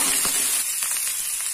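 Cashews roast in hot oil in a pan with grated ginger, a steady close sizzle and crackle with a few soft stirring scrapes, no talking.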